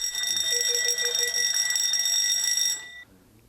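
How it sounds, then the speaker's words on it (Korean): An automatic fire detector in a karaoke room sounds its fire alarm, a loud continuous electronic ringing with bright tones that cuts off sharply near the end, leaving quiet room tone. "자동화재 탐지기가 화재 경보를 울립니다."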